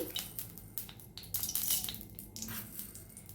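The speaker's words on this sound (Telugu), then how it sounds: "ఇప్పుడు స్టవ్ ఆన్ చేసుకొని బాణలు పెట్టుకొని తగినంత నూనె పోసుకొని" A cooking pan (banali) set down on a stove with oil poured in, heard as close metallic clinks and scrapes of cookware, quiet and intermittent with no talk.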